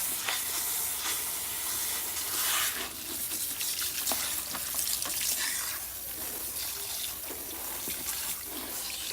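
Warm tap water runs steadily at a salon shampoo bowl, a continuous close splashing hiss with small spatters, and no talking.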